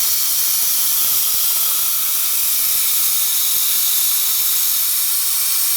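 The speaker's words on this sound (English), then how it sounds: "nice new degreaser going through the tube" Aerosol degreaser sprays steadily through a tube during a Lincoln MKS power transfer unit fluid change, giving a loud, continuous close-up hiss that holds unbroken for several seconds with no talking.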